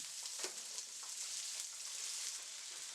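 Julienne carrots stir-fry in a very hot pot for Trinidad-style Chinese food, a faint continuous sizzle with a few soft tossing clicks.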